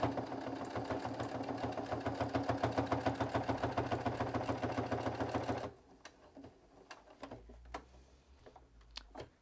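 A sewing machine runs close and steady, stitching a backstitch in a fast even rhythm for several seconds before stopping, followed by light handling clicks and rustles of fabric.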